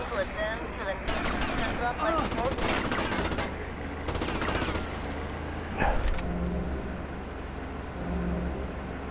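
Mac-10 submachine gun in GTA Vice City firing in rapid bursts, loud and dense against engine noise and other game sounds, with a voice talking over it.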